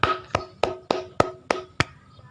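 A classroom group claps together for the green group after its presentation: about seven sharp, evenly spaced claps in a steady rhythm, fairly close, with no talking.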